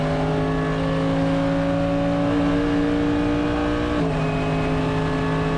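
A race car engine drones loudly and steadily on track at COTA, its pitch holding then stepping down briefly before climbing again, heard from inside the car.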